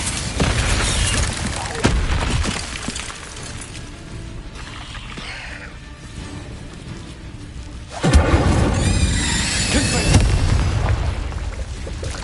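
Fiery blasts from the Incendio spell in Hogwarts Legacy, a heavy rumbling whoosh near the start, a quieter stretch, then another loud roaring burst later, close and booming.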